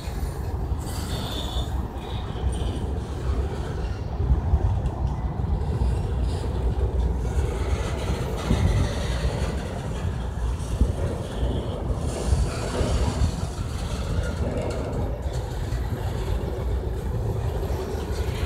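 A train passes with a sustained rumbling roar and grinding wheel noise, loud and steady throughout, with wind buffeting the microphone and no talk.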